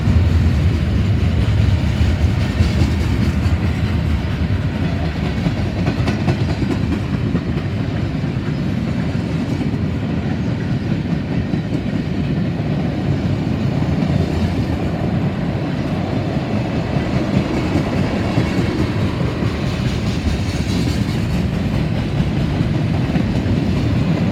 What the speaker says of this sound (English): You got tank cars, cover hoppers, lumber cars, box cars, and steel coil cars further back.